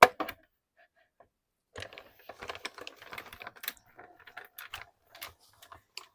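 A paper punch cuts small flower shapes out of a photo: one sharp snap, a pause, then a burst of close, crisp clicking and crunching mechanism noises.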